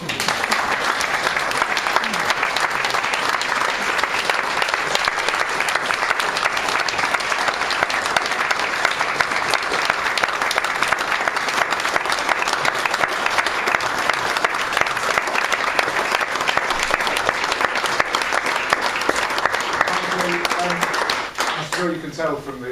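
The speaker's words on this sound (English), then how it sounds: "You can tell from the clapping, I thought that was amazing" Audience clapping after a speech at a parliamentary reception, a dense, sustained round of applause filling the room for over twenty seconds, then tapering off as a voice begins near the end.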